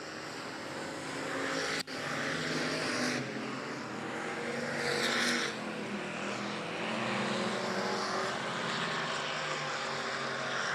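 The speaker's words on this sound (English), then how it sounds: "Kayla Strom giving it everything she's got out there in that 4-cylinder." Four-cylinder race cars roaring around the Big O Speedway oval, a continuous loud engine drone that swells and fades as cars pass, with no talk over it.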